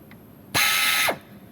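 A 6-flute countersink chamfers a hole in a steel vise stop, giving one short, loud, high-pitched cutting whine that lasts about half a second, starting and stopping abruptly in a quiet shop.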